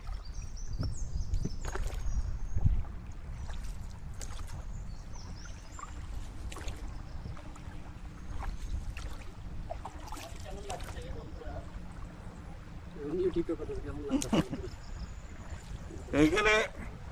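Water laps and splashes softly as a small boat moves across a lake, with occasional louder paddle strokes and faint voices in the background.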